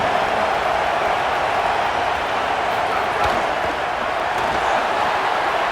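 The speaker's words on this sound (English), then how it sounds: "This crowd bringing the energy and noise early." A stadium crowd roars in the College Football 27 video game during a Kentucky versus Texas A&M matchup, making a broad, steady wash of noise that fills the whole stretch without a break.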